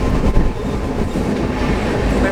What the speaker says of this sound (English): are you scared to travel in this Mumbai local train?